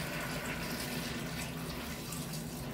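Hot water from a boiler, drawn at the tap, pours steadily into a cooking pot of browned goulash ingredients, a continuous close splashing rush with no talk.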